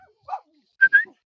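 A guard dog barks close by: one short yelp followed by two quick, louder barks, with no other sound around them.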